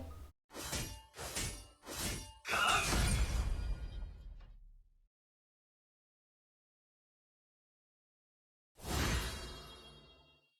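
Quick bursts of bright shattering skill effects from Honor of Kings, then a longer crashing burst, a stretch of silence, and one more sweeping shatter.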